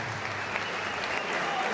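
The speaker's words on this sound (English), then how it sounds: "It's a good win for Hannah Robinson, who rightly takes a good round of applause." Crowd applause at a boxing fight night after a points decision, steady and dense throughout, with some voices mixed into the clapping.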